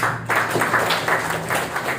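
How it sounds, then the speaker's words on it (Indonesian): Applause from an audience at a self-image training session, a dense wash of clapping that keeps steady for a couple of seconds with a faint voice underneath. "tepuk tangan untuk kita semua"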